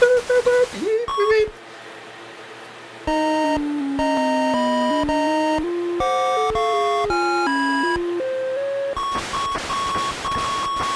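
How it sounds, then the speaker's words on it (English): Chiptune beeps and boops from the NES game 1942: a stepped run of square-wave tones in a steady rhythm, then a buzzy burst of game noise at the end, loud and clear with no talking. "Annoying boops and beeps."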